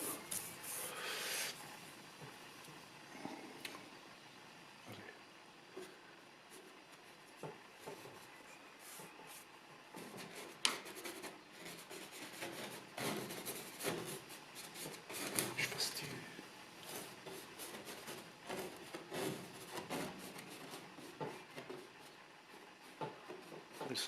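A large brush works paint across a canvas, giving steady close rubbing and scratchy strokes in irregular bursts, with brief louder swishes throughout and no talk in the clip.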